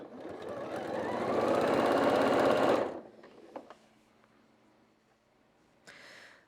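A sewing machine stitches quilt-as-you-go blocks at a 2.2 stitch length, whirring steadily and loudly for about three seconds before stopping, followed by quiet handling noises and a brief final burst.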